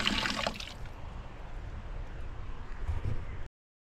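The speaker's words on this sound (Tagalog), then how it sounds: "Malakas naman yung tubig kasi galing sa ilog." Strong, steady rush of river-fed water pouring in a shower room at a Tarlac glamping site, a dense continuous hiss that runs unbroken until it cuts off abruptly.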